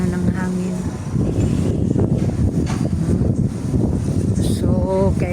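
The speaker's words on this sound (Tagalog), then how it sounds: "Pero yung hangin andyan pa din. Ayan pa din yung ano ng hangin." Strong wind after heavy rain rushes steadily outdoors in a loud, unbroken broadband roar, with a voice speaking intermittently over it.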